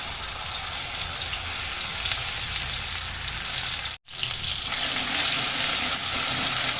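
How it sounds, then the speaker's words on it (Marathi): Mixer-ground masala paste frying in hot oil in a kadai for mutton rassa, a loud, dense hissing sizzle that cuts out briefly partway, then resumes strongly and keeps going, with no talk. "आता तेल झालेलं आहे त्यामध्ये मिक्सरला वाटलेला मसाला"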